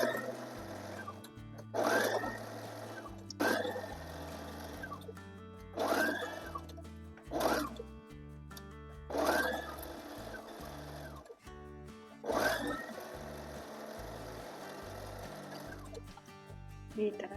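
Sewing machine stitching the folded half-inch hem of a long gown, running in several short bursts separated by pauses, close and clear with no talk.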